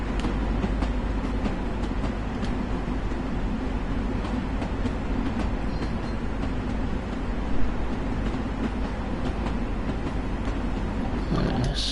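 A Long Island Rail Road train runs near Jamaica station in the Train Sim World game, a continuous loud rumble with rolling wheel noise and faint rhythmic clicks, heard steadily from the cab.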